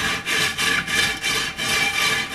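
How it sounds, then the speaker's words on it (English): Steady back-and-forth scrubbing on a cast iron pan, about five rough rasping strokes in an even rhythm, close and clear with no talking. "that doesn't take very much scrubbing either"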